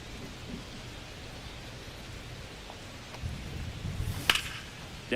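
Rain falling outside in a baseball video game, a soft steady hiss of rainfall with a few low rumbles and a sharp crack near the end.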